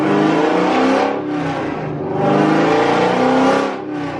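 A drift car engine revs hard in two long swelling pulls with a dip between them, loud and close, with the engine note rising and falling.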